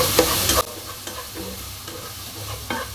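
Whole cardamom, cinnamon and cloves fry in a pan, with a loud burst of sizzling and stirring at the start that settles into a softer hiss, broken by occasional scraping stirs.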